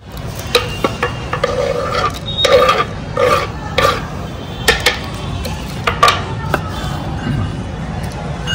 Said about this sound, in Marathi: आता कांदा टोमॅटो मिरची कापून झालाय